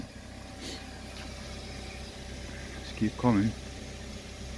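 A steady low hum and drone comes from the air compressor running on a 2015 BMW X5 F15, heard close and continuous, with someone briefly speaking over it near the end.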